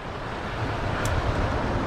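Holder Creek flows past near a landslide, a dense, steady rush of water close by that fills the scene evenly with a broad hiss and low rumble, with no voices over it.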